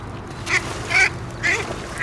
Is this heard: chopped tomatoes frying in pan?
no